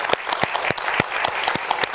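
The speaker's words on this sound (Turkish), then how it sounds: "Alkışlarımızı gönderiyoruz" A television studio audience applauds police officers on their special day, with dense, sustained clapping from many hands close by and a few sharper claps standing out.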